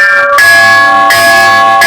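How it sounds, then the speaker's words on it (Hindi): Temple bells ring at the Durga Mata temple in Devsar village, Bhiwani, with bright metallic tones that sustain continuously and are struck afresh about three times, close and loud with no talking. "ये बहुत शानदार घंटियां"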